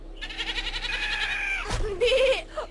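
Goats bleating in a series of wavering, nasal cries, one long drawn-out call breaking off near the middle and a second louder bleat following, fairly close and with no talk over them.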